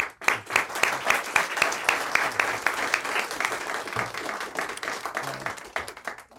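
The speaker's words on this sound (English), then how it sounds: "lead a round of applause for you" A council meeting audience in Norfolk breaks into sustained applause, many hands clapping densely and steadily throughout, fairly close and loud with no speech over it.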